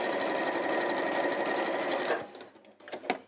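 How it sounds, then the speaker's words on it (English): A sewing machine stitches through thick fleece with a dense, steady whir for about two seconds, then stops, leaving a few faint clicks and handling noises. "when you're sewing through fleeces like this, it slows your machine down a bit because of the friction."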